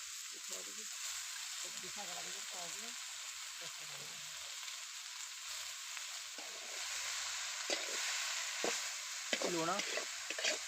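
Malabar spinach (poi saag) sizzling and frying with dry fish in an Odia home-style dish, a steady hiss of oil with stirring scrapes throughout, while a voice speaks intermittently over it.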